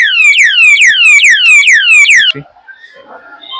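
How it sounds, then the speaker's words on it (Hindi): A cheap safety-lock alarm blares loudly as the lock is opened, a rapid series of about eight falling electronic chirps, then cuts off abruptly, leaving faint handling noises. "अगर कोई खोलने की कोशिश करेगा तो अलार्म बजने लगेगा"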